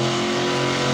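A Bigfoot 18 monster truck plows through mud at a freestyle event. Its engine gives a loud, sustained, close roar for about a second with no voices over it.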